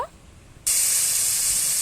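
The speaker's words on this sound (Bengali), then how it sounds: "আমি মরলা মাছগুলো ভালো করে নুন হলুদ দিয়ে মাখিয়ে ভেজে নেব" Salt-and-turmeric-coated mourala fish hit hot mustard oil in a kadai, bursting into a loud, steady sizzle after a brief quiet moment, the hiss holding strong to the end.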